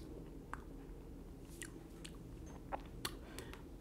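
Chewing while eating Malaysian sambal at home, with soft, quiet mouth sounds and a few brief crunchy bites spread across a low-level background.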